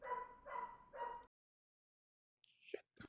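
A dog barks three times in quick succession nearby, then after a pause gives a short yip or whimper-like sound, with no talking over it.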